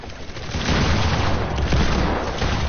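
Dense, continuous gunfire in a Fortnite match: a loud, crackling barrage of overlapping shots and booms that carries on without a break.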